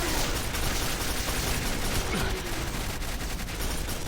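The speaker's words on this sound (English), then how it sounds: "Oh, they have grenade launchers." Grenade launcher fire from enemies in the 2005 shooter game Quake 4, a dense, continuous barrage of blasts and explosions filling the whole stretch at high level, with no talk.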